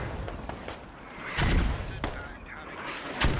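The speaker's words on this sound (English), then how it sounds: "Mortars landing just behind." Mortar shells land in Squad with heavy booming impacts, a few separate blasts spaced over several seconds, one rumbling longer, with a voice talking between them.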